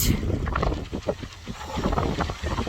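Gusty wind buffets the microphone in steady rumbling bursts, with a faint wash of surf behind it.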